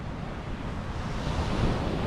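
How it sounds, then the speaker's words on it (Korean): Winter sea waves wash onto Anmok Beach in a continuous broad roar, with gusting wind buffeting the microphone and no voices. "파도가 진짜 멋있어요"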